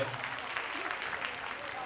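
An annual function audience at a dance academy applauds the parents on stage, a soft, fairly distant wash of clapping with a voice briefly under it.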